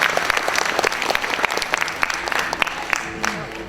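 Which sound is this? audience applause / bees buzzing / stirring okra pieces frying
audience applause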